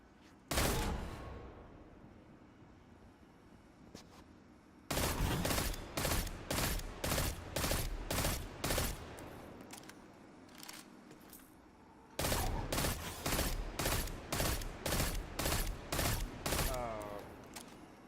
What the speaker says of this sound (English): let's compare it to another pulse rifle